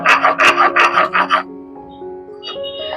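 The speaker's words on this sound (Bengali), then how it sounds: "এখানে আমি ধনে আর জিরেটাকে একসঙ্গে বেটে নিয়েছি।" Coriander and cumin ground together on a stone, heard as a quick series of loud rasping scrapes in the first half that then stop, leaving quieter background sound.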